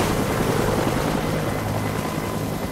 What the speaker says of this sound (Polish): Helikoptery lecą.